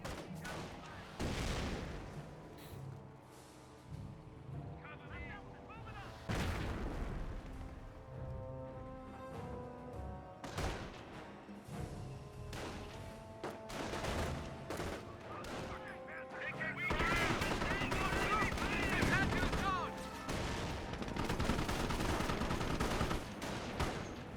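A pintle-mounted machine gun fires in the Company of Heroes video game, its sharp bursts repeating amid a busy battlefield of other gunshots and explosions that grow denser toward the end, with intermittent talk throughout.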